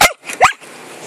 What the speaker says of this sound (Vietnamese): Đây là bài dạy sủa.